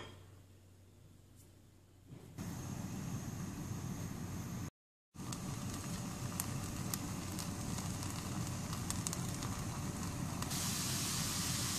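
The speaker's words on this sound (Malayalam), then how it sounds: "ഇനി നമുക്ക് പാലൊന്ന് തിളപ്പിച്ചെടുക്കാം." Milk heating in a pan on a stove for coconut milk pudding, a steady broadband hiss and bubbling roar that starts softly, rises after a couple of seconds, breaks off briefly, then continues loud and constant with no talking.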